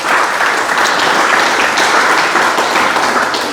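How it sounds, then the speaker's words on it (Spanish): A church congregation claps together in steady, dense, loud applause that holds without a break, with no voices standing out. "Vamos a darle otro aplauso al Señor"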